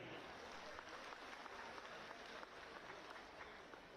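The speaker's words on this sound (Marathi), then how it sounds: "एकदा जोरदार टाळी त्यांच्यासाठी" A village audience at a Savitribai Phule birth anniversary program claps for the woman sarpanch, and the dense, continuous applause holds steady throughout, faint and distant in level.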